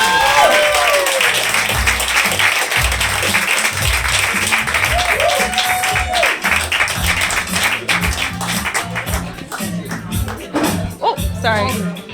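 Comedy club audience applauding comedian Aseem at the end of his set, a steady wash of clapping and crowd noise that runs throughout, with voices talking over it and the applause thinning toward the end.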